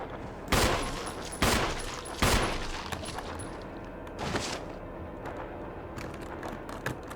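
Gunfire in Resident Evil 1 aimed at a zombie, three loud sharp shots spaced about a second apart, then a fainter shot and a few quieter clicks and thuds from the game.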